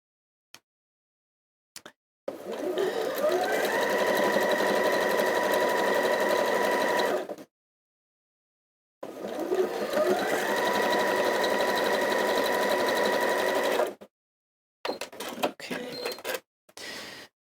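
A domestic sewing machine stitches fabric strip seams in two long steady runs of about five seconds each, close and fairly loud, with a pause between them and a few short bursts near the end.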